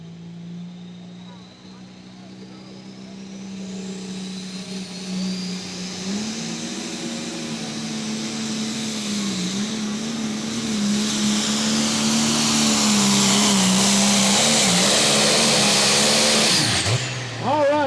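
An International pulling tractor called Deer Hunter 4.1, from Mount Juliet, Tennessee, makes a run at the 2024 Hillsboro tractor pull. Its loud, sustained engine roar climbs steadily for about seventeen seconds before cutting off abruptly.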